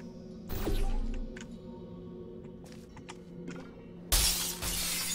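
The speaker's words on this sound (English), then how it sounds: "Of course the glass breaks." Glass shatters in the video game Portal 2 with a loud, sudden crash near the end, following an earlier impact burst and scattered clatter over a steady low hum.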